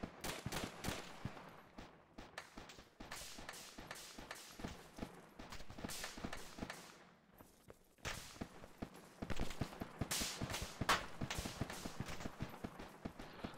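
Dense, continuous gunfire in the military game Arma 2, with rapid cracks and bursts packed together throughout, fairly loud and steady with no pauses.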